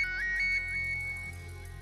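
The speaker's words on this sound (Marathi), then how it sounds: "दादाचा फोन येतोय, काय सांगू?" A phone ringtone for an incoming call in a Marathi TV serial scene: a bright melodic electronic tone pattern repeating steadily and clearly, with no talking over it.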